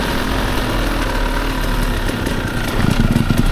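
Motorcycle engines idle together at a stop on a trail ride, a loud continuous rumble that thickens into uneven revving pulses near the end, with no talk.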